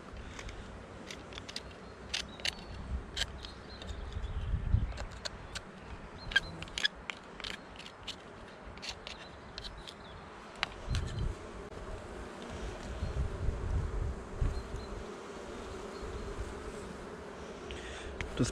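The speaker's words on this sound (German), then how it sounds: "Das Bienenvolk hier ist jetzt gerade nervös." A nervous honey bee colony buzzes steadily and close by during the first spring hive inspection at a bee yard, with sharp clicks and knocks from frames and tools scattered through the hum.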